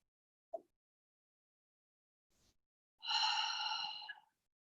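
Slow breathing during a beginner yoga stretch: a soft breath, a brief pause, then one long, audible sighing exhale close to the mic in a quiet room.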